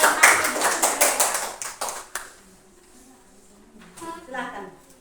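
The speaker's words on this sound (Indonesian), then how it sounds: "Mari kita sambut kelompok 1 dengan tepuk tangan" Students in a classroom clap for group one, a quick burst of many close, sharp handclaps lasting about two seconds before stopping. Quiet room sounds follow, then a voice begins speaking.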